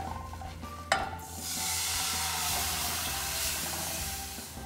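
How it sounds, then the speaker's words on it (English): Cold milk hits a hot white sauce base of flour cooking over a low flame: a sharp splash, then a steady, loud hissing sizzle that fills the rest, with no voices. "Now goes in the milk."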